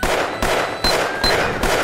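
Rapid gunfire in the video game Gunz comes as about four loud bursts of shots in quick succession, each a short sharp blast close up.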